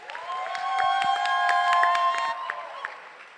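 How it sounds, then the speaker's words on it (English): Applause from a conference audience welcoming a speaker at an AI engineering event in Singapore, moderate clapping and some cheering over a sustained tonal hum, building then fading. "A big round of applause for Agrim Singh!"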